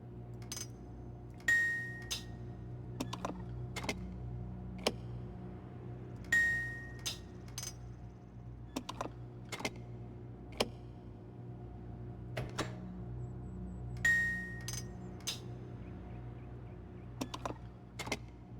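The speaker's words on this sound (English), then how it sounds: "I keep hearing a clicking, and I can't tell whether it's a good click or a bad click." Sharp, isolated clicks from the video game Riven sound at irregular intervals over a quiet low hum, with a few louder mechanical whirring thumps recurring every several seconds.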